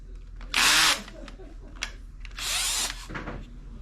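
Power driver fitted with a 25 Torx bit backing out windshield bracket screws on a 2024 Harley-Davidson Street Glide, two loud close whirring bursts of about half a second each with quiet handling between.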